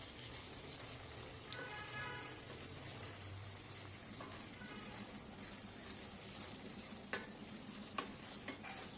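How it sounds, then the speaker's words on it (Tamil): Egg cubes are gently stirred into a capsicum masala curry, producing a faint, soft scraping and bubbling simmer with occasional small clinks, quiet and steady, without talk. "ஆட் பண்ணிட்டு அதையே லைட்டாக மிக்ஸ் பண்ணிடலாம்."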